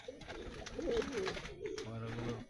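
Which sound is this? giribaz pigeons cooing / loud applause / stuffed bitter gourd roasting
giribaz pigeons cooing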